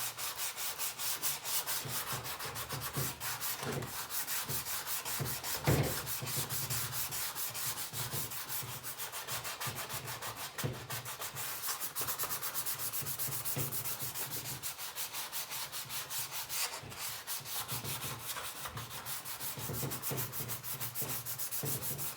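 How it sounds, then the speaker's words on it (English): Sanding block rubbing steadily over an LS6 intake manifold being prepped for paint, a continuous close scratchy rasp with brief pauses, no talking. "I'm just going to hit it with the sanding block"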